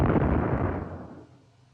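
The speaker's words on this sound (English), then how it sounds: "As a result, Forrester murdered him by gunshot." A gunshot from the Doctor Who serial Planet of Giants: one loud, booming report that rolls out into a rumbling decay, fading over about one and a half seconds with no speech.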